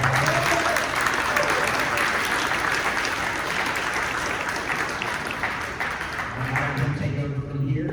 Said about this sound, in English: if you'll give him a big round of applause